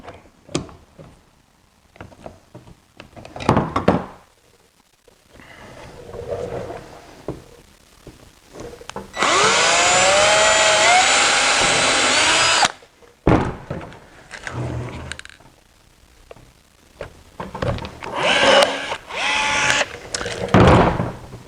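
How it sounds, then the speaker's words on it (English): A power drill bores a hole in a Power Wheels C7 front splitter: one steady whine of about three seconds with rising pitch, close and loud, set between clunks and handling noises. "All I gotta do is drill this hole up here."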